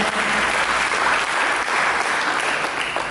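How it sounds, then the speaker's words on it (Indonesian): A church congregation applauds during a sermon, a loud, dense and continuous wash of clapping that fills the whole stretch with no speech on top. "Mari kita berikan tepuk tangan yang mulia."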